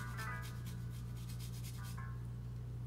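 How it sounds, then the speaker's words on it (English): Fresh ginger scrapes across a fine grater in quick rhythmic rasping strokes over a steady low hum from the kitchen. "if you've got a little fine grater like this one, and you can grate that on there"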